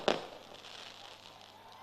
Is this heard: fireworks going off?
yes